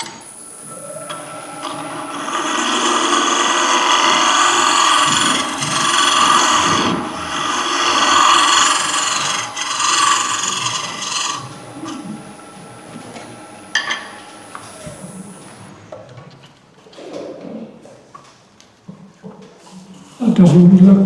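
Wood spinning on a lathe against a negative rake scraper as a sphere is turned, giving a loud sustained scraping whine for about fifteen seconds that then tapers into intermittent cuts and handling noise.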